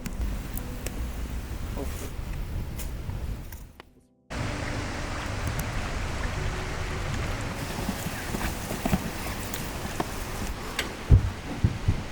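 A fire crackles steadily outdoors with soft pops and hiss. The sound cuts out briefly partway through, then continues evenly at moderate loudness.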